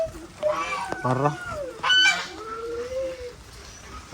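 Guinea fowl on a small farm give loud, harsh honking calls in short rising and falling bursts, close by, with some background noise.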